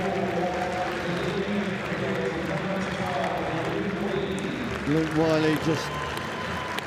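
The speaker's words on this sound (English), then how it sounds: "The crowd showing their appreciation for the Oxford skipper, as all the Cambridge side are as well" A rugby crowd at the Oxford versus Cambridge varsity match applauds the departing Oxford skipper, a steady distant wash of clapping behind a commentator's voice.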